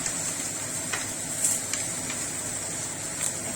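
Water hitting a pan of frying chilli chicken, giving a steady loud hissing sizzle that holds throughout, with a few faint clinks of utensils scattered across it.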